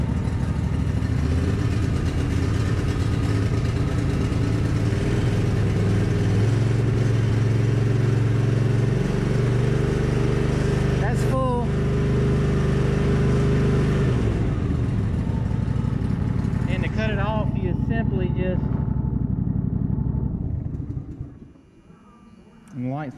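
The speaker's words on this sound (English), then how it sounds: "It's a fairly decent running engine for me. It's brand new. It ain't never been, but I'll go ahead and idle it up for you." A brand-new Cub Cadet XT2 SLX50 riding mower engine with barely any hours runs close and loud, a steady rumbling drone that holds for about twenty seconds before dropping away near the end.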